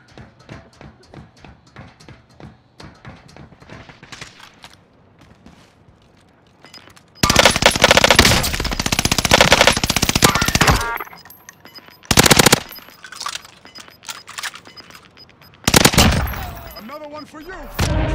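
Cooper carbine in a Call of Duty battle royale fires in long rapid automatic bursts, loud and close, with shorter bursts later between quieter stretches of footsteps and game noise.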